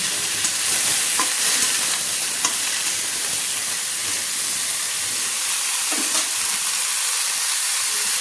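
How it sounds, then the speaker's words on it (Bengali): Mixed vegetables fry in a pan with turmeric and salt for a fish-head curry, making a continuous close sizzle with occasional soft stirring scrapes and no talking. "অল্প অল্প করে আমি ভেজে নিচ্ছি"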